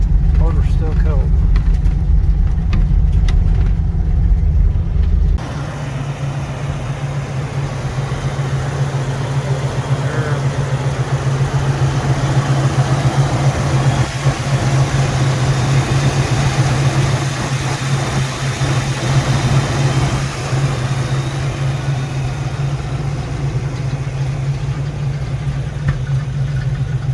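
A long-dormant Pontiac Ventura engine running cold after three years unstarted, with a loud steady low idle rumble and a slight miss throughout, a voice talking over it.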